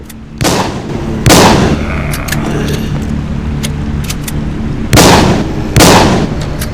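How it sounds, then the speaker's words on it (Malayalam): In The Walking Zombie video game, a short gun fires at zombies, giving four sharp, loud blasts spaced unevenly over a low background hum, with no speech. "നമ്മളപ്പോ ഷോർട്ട് ഗണ്ണും വെച്ചിട്ടാ വെടിവെക്കണേ"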